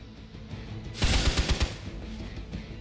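Burst of automatic gunfire in a combat setting, a rapid volley of loud shots rising out of a rumbling background and fading back into ongoing noise, with no voices.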